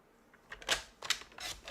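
A trimmer blade slides across a sheet of cardstock being cut for a handmade card, giving several short, crisp clicking and scraping strokes at close range, fairly quiet.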